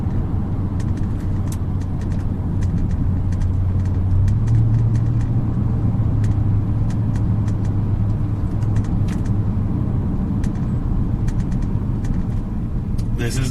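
Audi RS5 V8 with 450 horsepower driving, a steady low engine rumble and road noise from inside the cabin, rising slightly in pitch partway through, with people talking over it.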